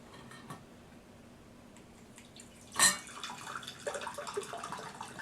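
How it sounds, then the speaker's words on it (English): Juice from an Omega juicer is poured out of a glass, giving a soft liquid splash and trickle after a sharp clink of glass, close and quiet. "let's go ahead and pour this side out"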